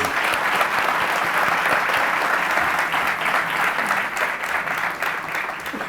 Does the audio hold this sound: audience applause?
yes